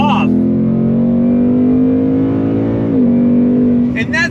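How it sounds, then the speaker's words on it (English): A 2022 Ford Mustang GT V8 in Grabber Blue with a 10-speed gearbox accelerates at full throttle, a loud sustained engine drone climbing in pitch with a brief gear-change dip, heard from inside the car. "On throttle, here we go. 10-speed drops down and we are off."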